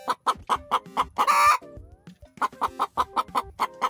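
Leghorn hens clucking in a backyard coop near the nesting boxes, a rapid, rhythmic run of loud, close clucks broken by one drawn-out squawk, with no talking.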